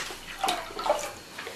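Milk poured into a pot for making malai kulfi, a soft, brief liquid gurgle and splash close by with no talking.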